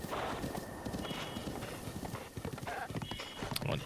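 Horse hooves clip-clopping in a steady cantering rhythm in Zelda: Breath of the Wild, faint and even under low background noise.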